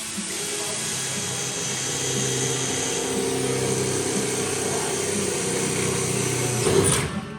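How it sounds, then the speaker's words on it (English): A power drill steadily bores out spot welds on Honda Civic car body panels, a continuous high whine running for several seconds with a brief louder burst near the end, no talk. "get some spot welds drilled out"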